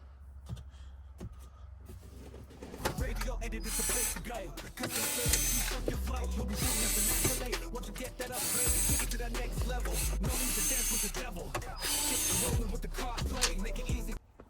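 Torx screws are backed out of the dash of a 2019-or-later Chevrolet Silverado during a radio install, with bursts of ratcheting and whirring driver noise close up, several runs separated by short pauses.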